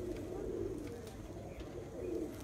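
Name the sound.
pigeons cooing as they land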